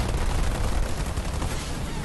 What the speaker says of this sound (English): Marines under fire from enemy ground troops.